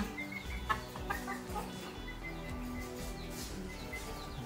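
A Tan Chau bantam rooster with milky-tan coloring, a single comb and yellow legs clucks in soft, repeated bursts at close range over quiet background noise.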